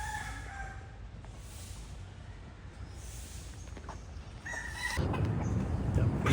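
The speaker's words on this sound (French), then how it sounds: "Il y a plein de poulets partout." Chickens and a rooster crowing outdoors in Thailand, with faint calls scattered across steady ambient noise and a louder burst of activity near the end.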